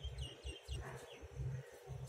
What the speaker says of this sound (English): There are so many parakeets we have found here.